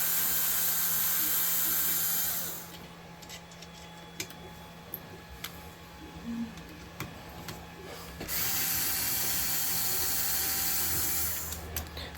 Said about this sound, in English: I'm just taking these bolts out.